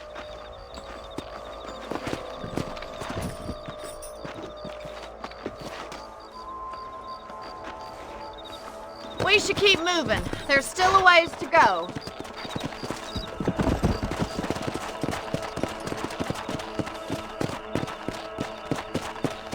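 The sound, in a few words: horses' hooves in the video game Red Dead Redemption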